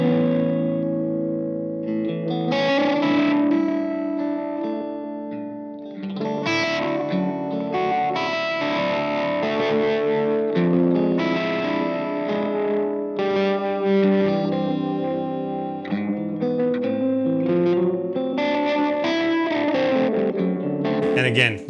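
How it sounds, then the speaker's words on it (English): Electric guitar played through a Loki pedal loaded with an impulse response of a Fender Echo Reverb oil can delay, with melodic phrases and chords trailing soft, wavering repeats and a lush reverberant tail, sustained throughout without talking. "he did an IR of a Fender Echo Reverb, which is a sound I've been chasing for a long time, which is those old oil can delays"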